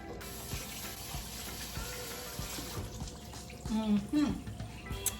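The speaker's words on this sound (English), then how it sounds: "Let me wash my hands." Water runs from a kitchen tap for hand washing, a steady faint stream that grows louder and splashier near the end, with a voice speaking briefly.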